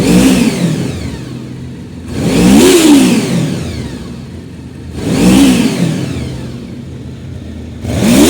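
Warm Honda VFR 750F motorcycle engine revved in three sharp bursts that rise and fall, each dropping back to a smooth idle between, close and loud with no talk.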